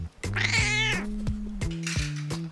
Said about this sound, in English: Can you meow like a cat?